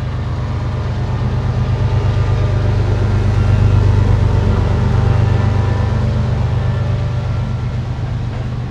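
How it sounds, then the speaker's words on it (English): A train passing nearby, a loud, steady rumble with a low mechanical drone and faint rhythmic rattling that holds throughout without pause. "I know it's loud, but there's a train"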